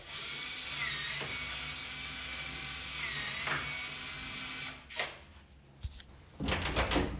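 A Nuki Smart Lock Pro motor drives the door lock with a steady, high electric whir lasting several seconds, then a few mechanical clicks and clunks as the bolt stops, close and alone.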